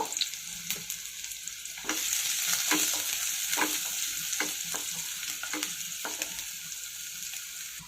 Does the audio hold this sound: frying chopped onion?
yes